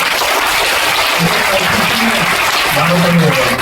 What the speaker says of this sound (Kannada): ಟೀಚರ್ಸ್ಗೆ ಇವತ್ತು ಜೋರಾಗಿ ಚಪ್ಪಾಳೆ ಕೊಡಲೇಬೇಕು